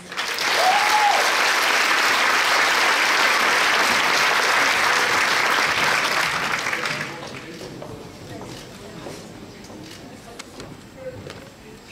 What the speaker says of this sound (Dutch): Mag ik van u alsjeblieft een hartelijk applaus voor de Miss Fashion Event van vorig jaar,